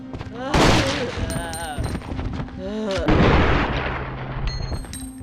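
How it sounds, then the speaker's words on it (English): A .45 auto pistol fires point-blank at zombies in Resident Evil Outbreak File 2: two loud, sharp shots about two seconds apart, with groaning, clattering game sounds and scattered effects in between. "And now let's see Kevin's take pot shot with the 45 auto."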